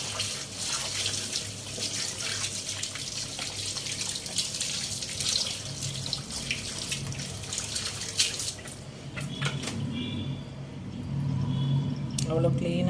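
A cleaning brush is washed under a running tap, with continuous splashing water in a sink and scrubbing under it, someone speaking in Tamil over the flow.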